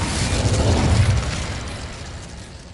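A fire spell, Incendio, is cast in the video game Hogwarts Legacy. A roaring, rumbling burst of flame swells for about a second, then slowly fades away. No voice is heard.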